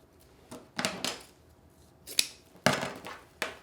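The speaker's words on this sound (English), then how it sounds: "to chevron those tails, just fold the ribbon, cut on the folded edge" Scissors cut through folded ribbon in several crisp snips, each a short sharp burst with quiet gaps between, close and clear with no voices.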